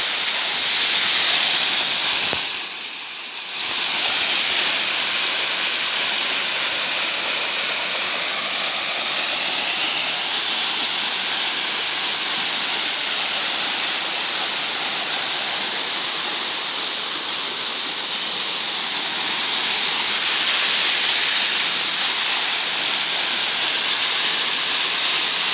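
Waterfall at Mirik village in Lachin district: a loud, steady broadband rush of falling water that continues unbroken, with a brief dip near the start.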